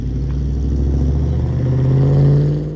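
A low, steady car engine rumbles nearby, its pitch rising slightly as it revs toward the end.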